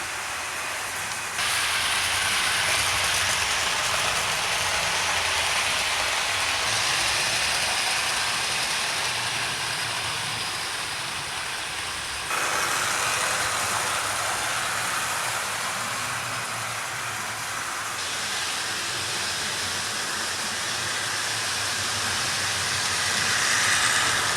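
A Tri-ang model train with an LMS Princess locomotive runs around the track, making a continuous close rolling whir and rattle that rises and dips in steps as it passes.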